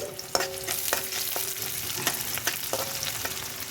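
Onions frying in a pan for a prawn fritter gravy: a continuous close sizzle broken by repeated scraping stirs of a utensil against the pan at an irregular, roughly half-second rhythm, with no talking.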